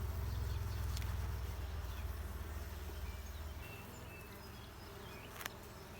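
Honey bees buzz at an open hive during an inspection, a steady close swarm drone with a heavier low rumble early on that eases after a few seconds. No talk is heard.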